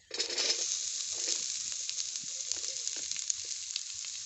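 Chopped onions dropped into hot oil already holding mustard seeds and curry leaves, a loud bright sizzle that bursts in at the start and then settles into a steady crackling fry with faint stirring.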